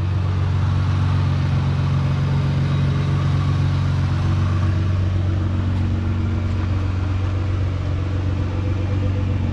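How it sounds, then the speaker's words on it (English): Volkswagen engine in a Volkswagen Thing running at a steady idle, a continuous low hum and rumble that holds evenly throughout. "It sounds exactly like a Volkswagen."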